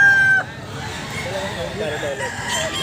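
A rooster crows briefly at the start, then several chickens cluck and call in a busy, crowded setting with faint voices in the background, at Grotto Pet Market among Sweater-breed gamefowl roosters and stags.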